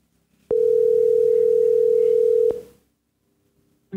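A telephone tone rings out on a podcast set: one loud, steady, continuous beep held for about two seconds, cutting off abruptly and leaving quiet with a faint hum.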